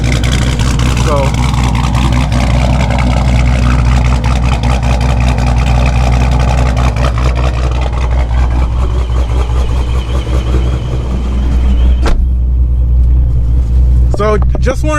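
A 426 HEMI car engine runs loud and close, a heavy, steady rumble throughout with a deep low-end drone, shifting near the end as the motor settles.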